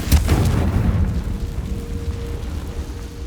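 The Confringo blasting spell going off in the Hogwarts Legacy video game, one deep booming blast at the start that rolls into a low rumbling tail and slowly fades, heard alone without talk.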